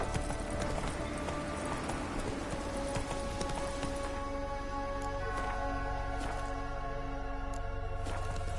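Horse hooves galloping in The Witcher Wild Hunt video game, a fast steady clip-clop drumming that runs continuously under a dense bed of game ambience, close and loud.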